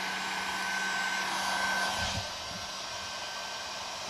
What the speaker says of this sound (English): That's more or less like a blow dryer.